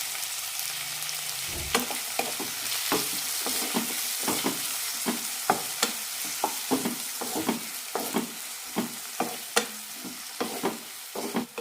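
Tomatoes and green chillies with a little salt sizzle in a pan for ivy gourd curry, a steady close frying hiss punctuated by regular scraping stirs of the spoon against the pan.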